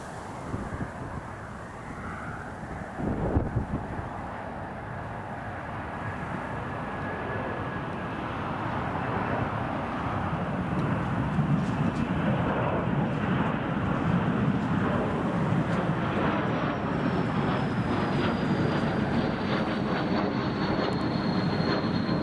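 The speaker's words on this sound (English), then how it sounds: "There goes the Learjet." Learjet taking off from Newcastle Airport on a stormy day, its jet engine roar building steadily from a distant rumble to a loud, sustained whine and rush, mixed with wind noise and no talk.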